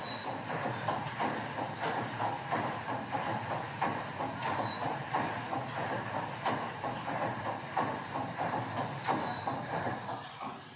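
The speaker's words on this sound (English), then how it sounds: "this is the sound of the engine when I was standing there taking a video" The steam engine of the Waverley paddle steamer, heard close up as a steady rhythmic chuffing and hissing with regular mechanical beats and clanks, continuous and moderately loud, with no one speaking.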